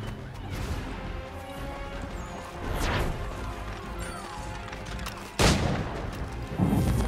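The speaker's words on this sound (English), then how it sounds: "People are still trying to shoot me." Gunfire aimed at the player in a video game, a dense chaotic din of shots and crashing impacts with a few sharper hits standing out, loud and continuous with no talk.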